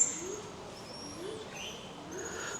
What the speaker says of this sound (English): Nice cinnamon dove.